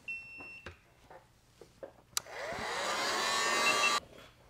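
A heat tool blasts air over freshly painted stencil work on a holographic largemouth bass lure, switching on after a few light clicks and taps and roaring steadily for about two seconds before cutting off.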